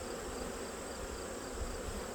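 Honeybees drone in a steady, dense hum from a packed hive whose frames are crowded with bees and trying to swarm in fall, a continuous close buzz with no voices.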